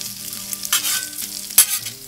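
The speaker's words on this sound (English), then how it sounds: "Then we'll finish off our bacon on the hot zone of our plancha." Bacon frying on the hot zone of a plancha griddle, a close, bright sizzle with a couple of louder bursts as the strips are shifted, no voices over it.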